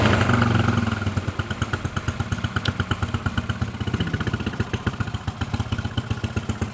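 A modified motorcycle engine with its electrics converted to full-wave DC, fired up and settling into a steady, close, rapid throbbing idle with a mechanical clatter.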